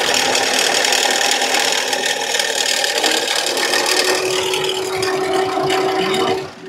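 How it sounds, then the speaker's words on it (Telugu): A Ford EcoSport engine runs steadily with a close, continuous mechanical rattle from a faulty dynamo, holding at a constant level before dropping off at the very end. "బయటకు వెళ్తే ఇంజన్లో నాయిస్ వస్తుంది"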